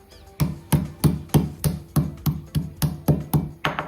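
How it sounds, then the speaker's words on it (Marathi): A piece of dried ginger is pounded to crush it, about ten sharp, evenly spaced thuds in quick succession, close and loud with no talking. "इथे मी सुंठाचा एक असा तुकडा घेतलेला आहे आणि आपल्याला तो ठेचून घ्यायचा आहे"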